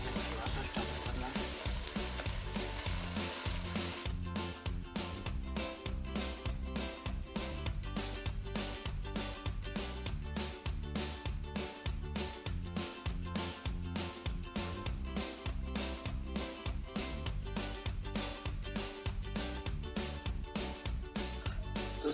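Mutton masala fries in a pan with a continuous loud sizzle and crackle, broken by regular scraping strokes of a stirring spoon close by, with no talking.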